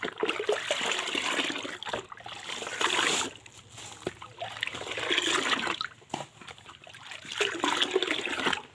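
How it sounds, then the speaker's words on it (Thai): Water scooped and poured over a plant in uneven bursts, splashing and trickling close by with short quiet gaps between pours. "ก็จะใช้ตักลาดไปเลยนะคะ"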